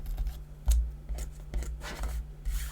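Scissors trimming a thin strip off the top edge of a stamped, resist-embossed paper card, several crisp close snips and paper rustles, with a faint steady hum underneath.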